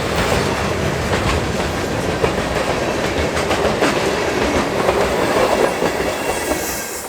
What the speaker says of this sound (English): CP A18 races by with two relatively new eco locomotives.